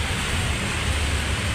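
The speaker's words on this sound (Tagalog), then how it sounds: "lakas ng ulan" Heavy rain pours steadily outside a mall, a dense, even hiss with a low rumble and no breaks, loud and continuous throughout.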